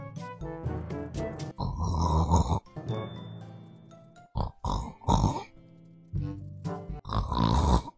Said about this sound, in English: Nobody snores like that.